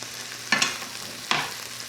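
Onions and bell peppers frying in olive oil, a steady soft sizzle broken by two louder crackling bursts as the vegetables are stirred, heard up close with no talking.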